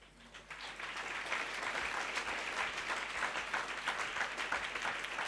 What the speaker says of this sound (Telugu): ఇంకొకసారి ఇందాక చప్పట్లు కొట్టిన వాళ్ళందరూ చప్పట్లు కొట్టండి.